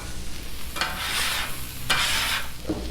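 Meat fries on a hot Blackstone griddle, with a steady close sizzle and two bursts of spatula scraping and stirring across the flat top.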